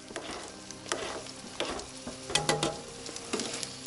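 Meat frying in a pan on a stove inside a tent on the ice, a soft steady sizzle with crackles and occasional stirring clinks, fairly quiet and close with no voices.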